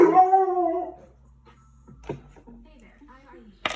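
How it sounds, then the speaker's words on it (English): A dog whines and howls in a rising, wavering cry lasting about a second, close by, followed by quieter faint sounds in an indoor room. "I had to silence my dog there for a minute."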